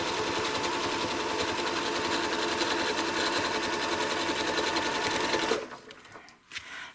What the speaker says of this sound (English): So now I'm ready to stitch a 4 inch half circle.